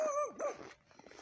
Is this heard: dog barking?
yes